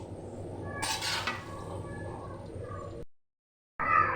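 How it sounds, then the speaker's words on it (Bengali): Olives being stirred and turned in hot mustard oil in a pan, a steady close sizzle with a louder burst of frying and utensil scraping, then a brief drop to silence before the sizzle returns. "আমি সবগুলো জলপাই উল্টিয়ে পাল্টিয়ে মিশিয়ে নিচ্ছি।"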